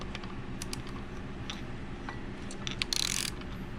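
A 2006–2009 GSXR 600/750 engine with rod knock and a spun bearing, torn down and its crankshaft turned by hand, gives off steady quiet mechanical clicks and ratcheting with a brief louder rattle near the end, no talk.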